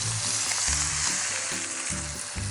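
Browned butter sizzling in a hot cast iron skillet, a close, steady crackling fry with faint soft knocks underneath, alone with no talking.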